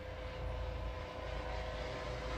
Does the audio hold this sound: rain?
no